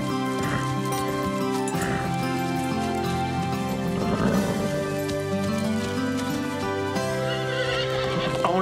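A horse neighs in a loud whinny with long, bright, wavering calls close by, over a dense, steady background of music or ambience.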